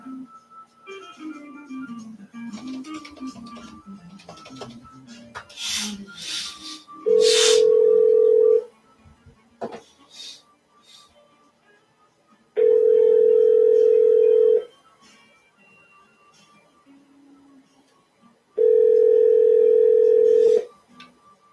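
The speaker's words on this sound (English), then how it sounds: "I could just dial his house line from here." A house landline gives three long, steady electronic telephone tones about five seconds apart, loud and close, after a stretch of someone talking quietly with a few clicks.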